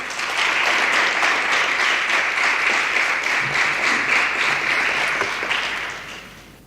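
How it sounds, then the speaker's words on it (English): A school prize-giving and valedictory service audience applauds in a dense, sustained round that holds steady for several seconds before tapering off at the end. "Let's give it a round of applause."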